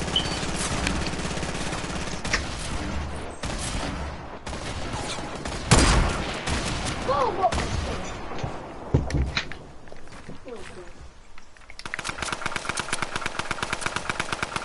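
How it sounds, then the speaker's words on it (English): Grenade launcher fire and explosions in a Fortnite match, a run of loud overlapping blasts and gunfire bursts with game footsteps and engine noise mixed in, ending in a rapid rhythmic volley. "I'll nade launcher him."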